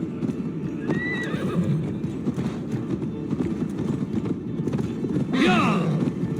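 Horse in Assassin's Creed Valhalla whinnies twice, a shrill descending neigh near the start and a louder one near the end, over a steady bed of clip-clopping hooves and mixed ambience.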